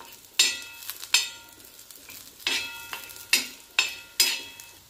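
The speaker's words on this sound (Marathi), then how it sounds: "थोडंसं तेल टाकूया आणि याला परतून घेऊया।" Drumstick and potato vegetable pieces being sautéed in oil, with several sharp bursts of sizzle and clatter as the pan is stirred, each fading back to a low steady fry between strokes.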